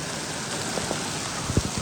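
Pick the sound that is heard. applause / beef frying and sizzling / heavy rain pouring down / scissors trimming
heavy rain pouring down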